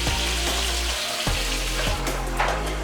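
A steak sizzles loudly in a hot pan as it is bathed in a freshly made sauce, a steady close frying hiss with a low, constant hum beneath it.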